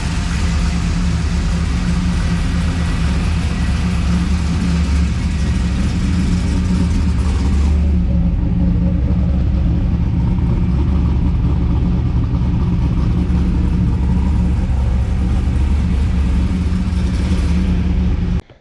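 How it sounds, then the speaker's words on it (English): Idling engine of a Camaro SS or WS6 Trans Am V8 fresh after new spark plugs, a steady loud low rumble running continuously and close by with no voices over it. "it seems like it idles a little smoother"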